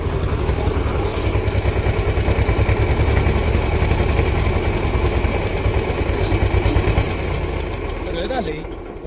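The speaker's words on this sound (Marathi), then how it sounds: "आम्ही आता नुसतं ट्रॅक्टर काढायचा ठरलाय" A Balwan 550 tractor engine runs steadily at close range, a continuous low diesel chugging throughout, with voices talking over it.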